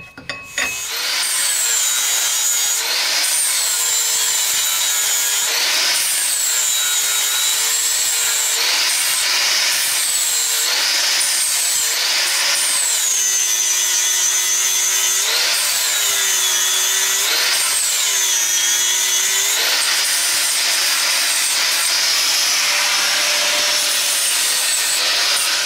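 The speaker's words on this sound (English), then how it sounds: "the first thing is to do a bit of damage with a grinder" An angle grinder cuts into a clamped metal part, a continuous loud whine whose pitch sags repeatedly as the disc bites in and recovers between passes, with no talking.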